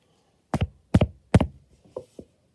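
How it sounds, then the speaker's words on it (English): Knocking on a door while trick-or-treating: three firm double-rap knocks spaced evenly, close and loud, followed by two softer, lighter taps, with no talking. "I gotta knock on this door."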